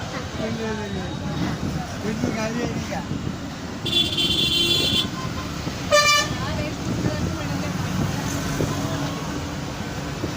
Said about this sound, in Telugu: చెరువుపల్లి బస్సు అట్టు ఉన్నాయి. చెరువుపల్లి బస్సు ఇది.